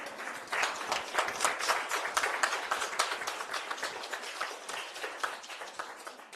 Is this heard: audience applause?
yes